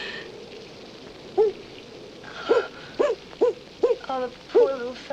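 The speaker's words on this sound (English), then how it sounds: "it's an owl." An owl hooting repeatedly during a stormy night with rain falling, a series of short, wavering hoots spaced irregularly over a soft background of rain, with no talk.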